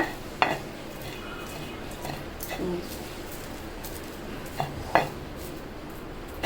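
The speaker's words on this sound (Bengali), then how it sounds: "আমি ভর্তাটা বাকি উপাদানগুলি মিশিয়ে নিচ্ছি।" A spoon scrapes and knocks against a metal pot while a thick mashed chicken mixture is stirred, with a few sharp clinks at irregular intervals.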